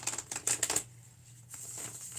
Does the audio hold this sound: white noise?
no